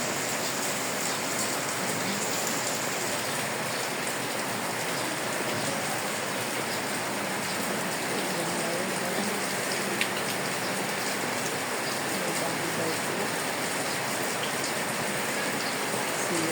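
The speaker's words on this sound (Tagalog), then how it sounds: "Napakalakas ng ulan ngayon." Heavy rain pours down steadily, a dense continuous hiss of drops drumming on surfaces with no break throughout.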